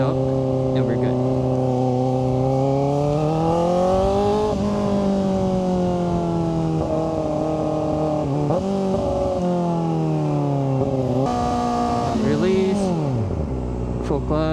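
A Kawasaki ZX-4RR motorcycle engine revving close by, its pitch climbing and falling through throttle blips and pull-aways with smooth rising sweeps, loud and continuous under someone talking.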